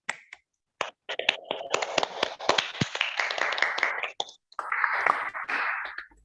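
Students in a classroom give a short round of applause for a group after its presentation, a brisk cluster of sharp claps close by that thins out, then swells briefly again.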